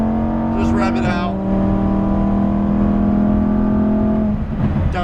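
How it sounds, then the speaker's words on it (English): A 2018 Lamborghini Huracan Performante engine held at high revs, a loud steady droning roar with a pitch shift near the first second and a drop toward the end, recorded close from inside the car. "Just rev it out."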